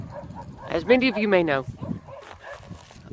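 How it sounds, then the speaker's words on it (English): A dog yips somewhere off at a distance, a string of short, high calls mixed in with a person talking close by on a morning walk. "Oh, there's a dog yipping over there."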